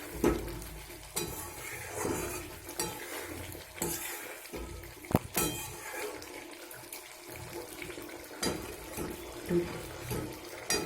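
Jackfruit curry with ghee bubbles and spits in a pan, uneven soft popping and sputtering with occasional louder stirring knocks against the vessel.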